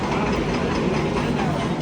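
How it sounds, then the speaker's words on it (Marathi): A train waits at a station with its engine running, a steady low rumble mixed with broad station noise, moderately loud and unbroken. "ये है मेरी ट्रेन, फायनली मी निघाले."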